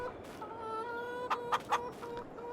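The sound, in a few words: chickens clucking in video game Farming Simulator 22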